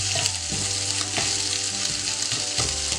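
Ingredients sautéing in a pan for paneer butter masala, a steady close sizzle and fry with scraping stirs of a spoon recurring every second or so, no voices.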